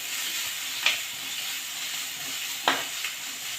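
Onions frying in oil for a potato dish, a constant close hiss of sizzling broken by a couple of sharp spatula scrapes against the pan.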